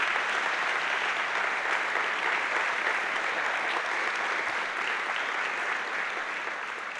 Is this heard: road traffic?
no